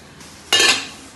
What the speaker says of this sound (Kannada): ಇವಾಗ ಇದು ಮುಚ್ಚಳ ತೆಗಿತೀನಿ